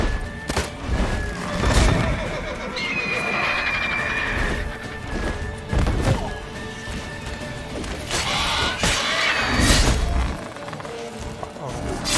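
A horse in the Witcher 3 video game whinnies after being shot, amid crashes, thuds and combat noise, with a player talking over it.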